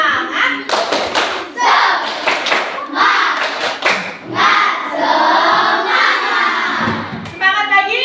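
A classroom of young children performs a rhythmic spirit clap together, with loud bursts of hand claps mixed with energetic shouted chanting from the whole class, close and lively.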